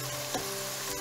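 Turmeric and red chili powder being mixed into softened tomato in a frying pan for chicken curry, giving a steady broadband sizzle with one brief scrape of the spoon, close and alone.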